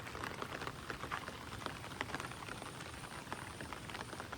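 Heavy monsoon rain falls over flooded farm fields as a dense, continuous patter of drops with no voices.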